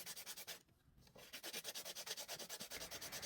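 A coconut shell craft piece is hand-sanded in quick, even back-and-forth rubbing strokes, soft and close, with a brief pause early on before the steady scraping rhythm resumes.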